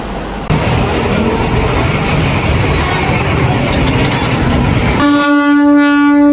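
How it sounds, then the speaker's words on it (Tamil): A MEMU commuter train roars steadily past at close range with loud rumbling and clatter, then a sustained multi-tone train horn blares near the end. "தூரத்தில் ஒரு மெமோ வருதுங்க பிடிக்க முடியுதான்னு பார்ப்போம்"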